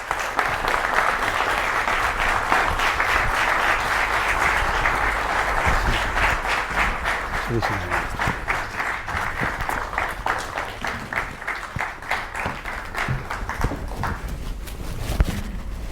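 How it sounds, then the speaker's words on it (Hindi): A studio audience gives a guest, Pandit Pradeep Mishra, a loud welcome with sustained applause that holds steady and thins into individual rhythmic claps near the end. "जोरदार तालियों के साथ स्वागत कीजिए पंडित प्रदीप मिश्रा जी का"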